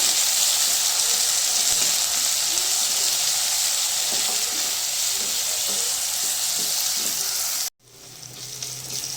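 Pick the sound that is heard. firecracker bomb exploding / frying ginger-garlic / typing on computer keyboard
frying ginger-garlic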